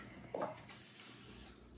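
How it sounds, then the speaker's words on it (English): A Pampered Chef kitchen spritzer, already pumped up to pressure, sprays in one short burst, then gives a soft airy hiss that lingers faintly for about a second. The sound is close and quiet, with no talking over it. "Mine's already built up the pressure, and you're just going to spray it in there."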